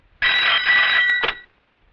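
A telephone ringing at a police station, one bright electronic ring lasting about a second with a short second chirp, close and clear against silence.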